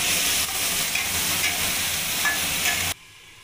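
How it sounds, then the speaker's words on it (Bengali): Chopped tomato and salt sizzle in a hot frying pan while being stirred, a steady hiss with scraping that stops abruptly near the end. "টমেটো কুচি, সামান্য একটু নুন দিয়ে আমি ভালো করে নাড়িয়ে নেব।"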